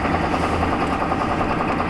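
Ford truck engine idling rough and choppy right after a -40 degree cold start, a loud, close, steady rumble with an uneven pulsing beat.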